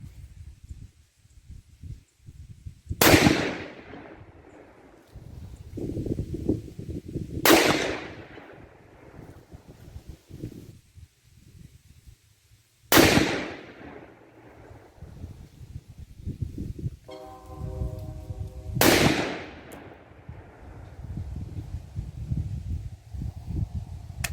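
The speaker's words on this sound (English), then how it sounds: "the first group's going to be a 4-shot group" Four sharp, loud 6.5 Creedmoor rifle shots firing Lapua 123-grain OTM Scenar loads over H4350 powder, evenly spaced several seconds apart, with wind and rustling outdoor ambience between them.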